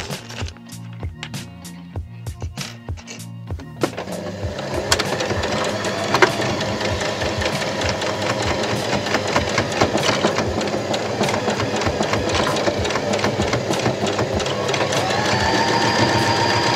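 A sewing machine starts with a few separate clicks, then runs steadily in a fast rhythmic whir, loud and close, with no talking.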